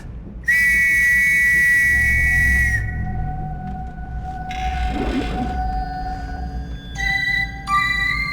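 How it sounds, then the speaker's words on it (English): A Firebird whistle in The Last Express video game sings out as a loud, sustained tonal call lasting a couple of seconds. Softer gliding, bird-like whistle notes follow it, with no voices present. "if we blow that whistle,"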